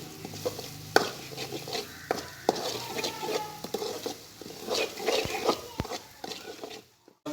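Chicken liver and gizzard cooking in masala in a pan, with soft sizzling under frequent scraping and stirring knocks of a spoon against the pot, fairly quiet and close.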